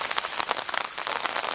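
Steady rain patters densely on a lake and the surrounding forest during a hike in the Roaring Creek tract of Weiser State Forest, an even close wash of drops with no voices.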